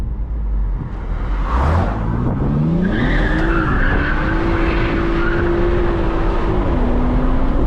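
A BMW 340i drifts with its tires skidding, a loud close squeal that climbs in pitch and then holds a sustained wail over engine roar for several seconds.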